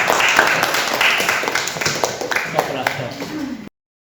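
A classroom of students gives a round of applause, scattered claps mixed with voices talking over them, fading slightly toward the end.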